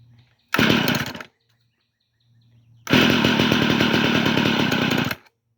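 A small two-stroke tiller engine fires and buzzes loudly for under a second, dies, then catches again and runs at a harsh, raspy high idle for about two seconds before cutting out.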